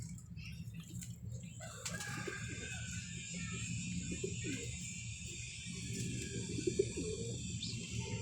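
An old-bloodline Kala Cheena pigeon coos softly in a loft, low repeated throaty coos over a steady background hum, with a brief wing flutter and faint bird calls around it.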